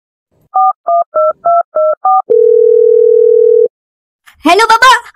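Cartoon phone dialing: six quick two-tone keypad beeps in an even rhythm, then a steady dial tone for over a second, followed by a cartoon voice speaking.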